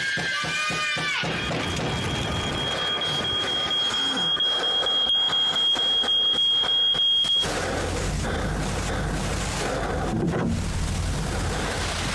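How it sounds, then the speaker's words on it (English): A smoke alarm sounds in a short safety announcement, giving a steady high-pitched electronic tone for several seconds before cutting off, then low rumbling ambience with no speech. "When your smoke alarm goes off, make sure you know what to do"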